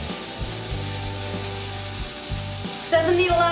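A tortilla brushed lightly with oil frying on a hot griddle, giving a steady close sizzle throughout that grows louder and brighter near the end.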